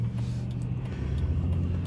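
A car's cabin as it drives along a road, with a steady low engine and tyre rumble filling the space, constant and moderately loud with no talking.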